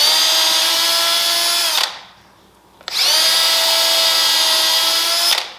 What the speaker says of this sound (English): Now we gotta drill sideways.